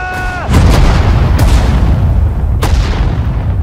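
Heavy artillery fire in the WWII desert-war strategy game Sudden Strike 4: a short tone, then loud booming blasts with a continuous rumbling barrage and sharp cracks sounding through, close and forceful.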